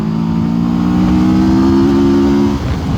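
A Mash FR750 roadster engine revs hard while downshifting into third gear at around 4500 rpm, a loud close steady growl that drops away abruptly near the end.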